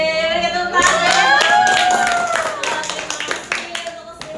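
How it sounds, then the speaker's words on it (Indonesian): A classroom group claps for a lesson during a teacher-training session. The clapping is loud and busy, runs for about four seconds with voices mixed in, and thins into scattered claps at the end. "Oke, berikan tepuk tangan."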